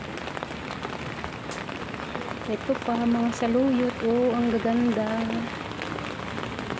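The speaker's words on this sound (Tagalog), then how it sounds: "Umuulan" Steady rain patters over a rooftop vegetable garden, a constant hiss throughout while someone talks over it and a brief tonal sound rises in the middle.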